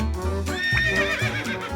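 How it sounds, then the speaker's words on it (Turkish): A horse on a farm gives a loud, wavering whinny that rises and falls for nearly two seconds, with low rumbling underneath. "Bu bir at."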